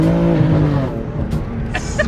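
A BMW F80 M3 driving, its engine rumbling steadily, then a short cluster of sharp exhaust pops and crackles near the end, close and fairly loud.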